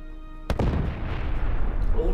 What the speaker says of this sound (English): Artillery to start, okay.